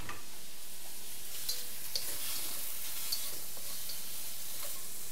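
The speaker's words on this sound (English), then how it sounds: "add a little bit more oil. Pop in my shrimp." Shrimp sizzling in hot oil in a pan, a loud continuous hiss close by with light ticking spatters throughout and no voices.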